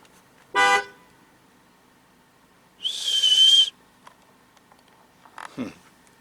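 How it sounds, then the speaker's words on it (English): A car horn sounds in three separate honks while driving on a dirt road: a short blast near the start, a longer, louder one in the middle, and a brief, fainter toot at the end, with quiet gaps between. "See what they do if I blow the horn."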